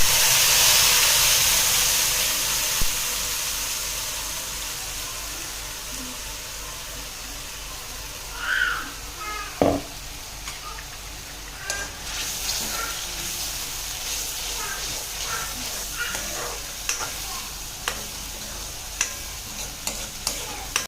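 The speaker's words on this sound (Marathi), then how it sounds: "तर हे वाटण मी ह्याच्यात सोडणार आहे" Ground paste of onion, tomato, green chilli and ginger-garlic hitting hot oil in a pan for soya chunk curry, a loud hissing sizzle that settles into steady frying with occasional stirring clinks and pops.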